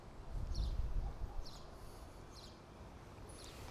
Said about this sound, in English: You hear the birds in the tree?